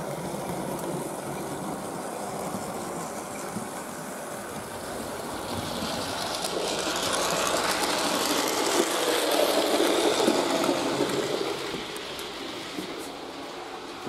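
A digitalised Liliput BR 018 323-6 model locomotive with added LEDs runs quietly, its soft whirring hum swelling midway and then fading back down.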